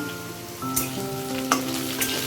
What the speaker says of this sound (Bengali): রসের আলুটা ফ্রাই হচ্ছে